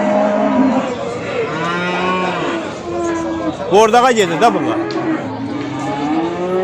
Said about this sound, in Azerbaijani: Əziz qardaşlar, bax belə erkək dana var, 2 baş.